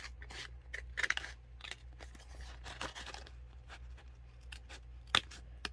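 Scissors cutting up a paper planner spread, quiet close snips and crisp paper rustles in an irregular sequence, with one sharper snip near the end over a faint steady hum.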